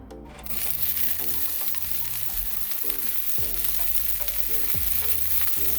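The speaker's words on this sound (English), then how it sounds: "when your oil is nice and hot, you want to go in with your onion" Onion dropped into hot oil in a pot sizzles loudly and steadily, with a dense continuous crackle and low rhythmic clunks of stirring or pot contact throughout, no talking.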